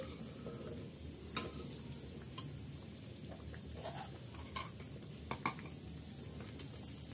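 Beef haleem made with beef shank is stirred in a pot: quiet, steady sizzling and bubbling hiss with a few faint scraping taps of a spoon against the pot, close and soft, with no talk.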